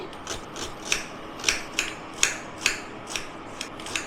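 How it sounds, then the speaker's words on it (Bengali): A whole onion is sliced thinly with a knife on a board for Bengali chicken Mughlai paratha, giving about nine crisp, evenly spaced cutting crunches, close and fairly quiet. "এখানে একটা গোটা পেঁয়াজ নিয়েছি, কেটে নেবো। পাতলা পাতলা করেই কাটছি।"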